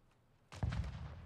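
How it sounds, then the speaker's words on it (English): A rolled grenade explodes in a video game: one sudden, loud, thudding blast that bursts out after a quiet moment and rumbles briefly as it fades. "Let's see if I can get a nade kill off the rip. Rolling grenade."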